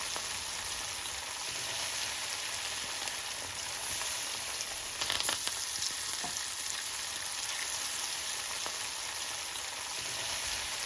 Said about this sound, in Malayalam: മസാല പുരട്ടി വെച്ച നമ്മുടെ മീൻ വെളിച്ചെണ്ണയിലേക്ക് ഇട്ട് ഫ്രൈ ചെയ്തെടുക്കാം